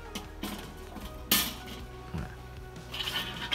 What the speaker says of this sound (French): je vais replacer ma grille de cuisson